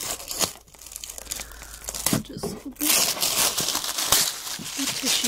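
Tissue paper tears and crinkles while a Monster High Skullector Dracula collector doll is unboxed, a run of close, crisp rips and rustles with a voice talking over them.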